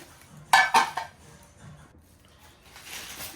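Ceramic plates clink together twice in quick succession as they are handled, followed by faint handling noise in a quiet room.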